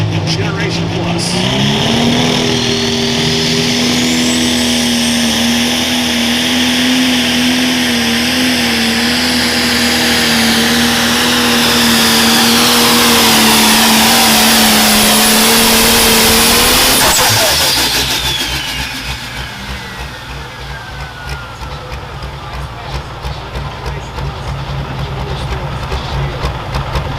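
A Pro Stock pulling tractor roars at a tractor pull event. Its engine holds a loud, steady droning pitch that rises gradually before cutting off sharply, leaving a lower rumble and crowd noise.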